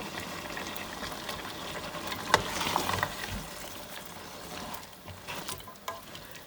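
Mutton curry with frozen green chickpeas just added, cooking in a pot: a quiet, continuous low sizzle and bubbling with an occasional faint utensil tap.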